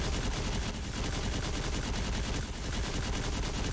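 A weapon fires nonstop in Destiny 2, producing a loud, dense stream of rapid automatic shots with no pauses.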